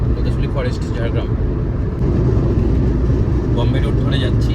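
Car cruising at roughly 100-110 on Bombay Road through forest toward Ghatshila, a steady loud engine and road roar from inside, without a break.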